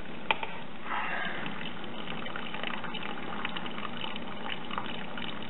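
Liquid malt extract drains out into a bowl during an IPA brew day, a steady near trickling, gushing flow of thick liquid with small splashes.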